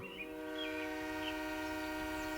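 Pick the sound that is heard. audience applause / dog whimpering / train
train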